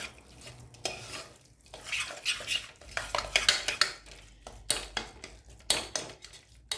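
A spoon scrapes and stirs a green peas sev usal mixture in a cooking pan, with irregular metallic scrapes and clanks over a faint sizzle, close by and with no voices.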